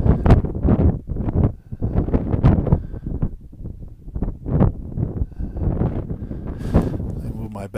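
Wind blows outdoors against the microphone, with strong gusting buffets that rise and fall in uneven bursts, loud and close, while a person talks over it.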